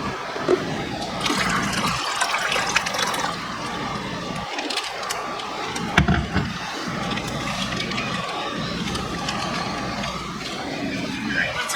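Water poured from a cup into a container while acclimating new fish, balloon rams and otto catfish, a steady splashing trickle throughout with a person talking over it.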